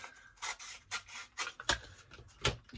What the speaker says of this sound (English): So I'm going to just trim with some scissors,